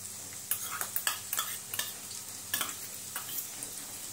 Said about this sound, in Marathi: कांदा आपण परतून घेऊ।